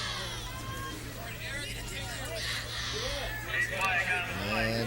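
High school football crowd in the stands at a night game between Clawson and Royal Oak, a steady murmur of distant voices and chatter with occasional louder calls, heard beneath an announcer talking.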